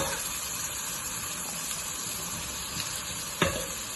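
Spinach curry cooking in a pan, with a steady soft sizzle and hiss running throughout and a single sharper knock or scrape from stirring near the end; no speech.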